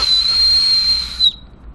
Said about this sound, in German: Normalerweise befindet sich hier im Originalzustand diese kleine Pfeife. Ich teste die mal.